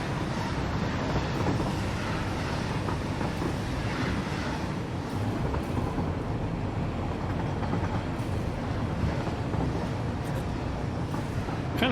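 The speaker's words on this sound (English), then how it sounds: "cool riding the trains" A train ride in the factory-building game Satisfactory: a steady, unbroken rumble of rolling rail cars and rushing air that holds at an even level throughout, with no voices.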